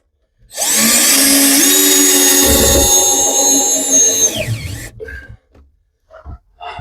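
A power drill drives 5/16 screws in a steady, loud whine lasting about four seconds, its pitch dipping briefly, then the drill stops and short clicks and handling noises follow.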